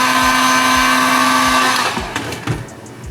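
A heat gun blows hot air onto Onewheel XR grip tape with a steady, loud whir and a fixed tonal whine. After about two seconds it gives way to handling noises and light knocks.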